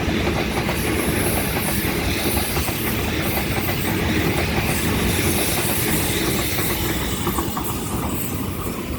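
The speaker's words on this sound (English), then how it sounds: "Oh, it's actually not stopping. A Penrith service, Waratah A set A33." A Waratah A set passenger train, set A33 on a Penrith service, running through Macdonaldtown station without stopping, a loud continuous roar of wheels and rattling carriages with clickety-clack and hiss, close by, filling the whole stretch.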